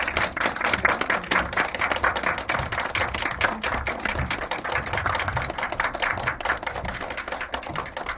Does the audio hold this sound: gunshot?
no